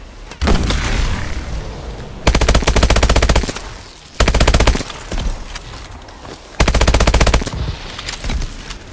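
Bursts of automatic gunfire in the video game Call of Duty: Advanced Warfare, loud rapid machine-gun volleys repeating in several sustained strings over steady battle noise.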